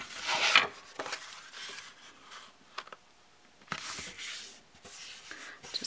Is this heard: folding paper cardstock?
yes